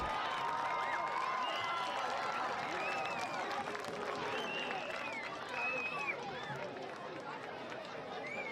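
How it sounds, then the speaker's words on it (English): A crowd applauding the Speedway football youth team at a football event, steady clapping mixed with cheering and chatter that tapers off slightly over several seconds. "let's give a big round of applause for the future of Speedway football"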